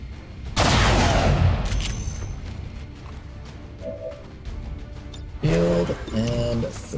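Squad gunfire in the XCOM 2 video game, a loud sustained burst of shots followed by quieter scattered impacts, then a second loud burst with electronic tones.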